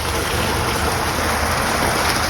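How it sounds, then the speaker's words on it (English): Steady, full rushing water from a koi pond fills the scene in Laguna Canyon, a continuous close splashing wash with no voices. "We can hear the water and all the lovely nature sounds of Laguna Canyon."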